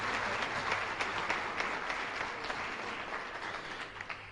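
A school hall of fame crowd applauds the season's MVPs, a dense, sustained burst of clapping that holds steady throughout.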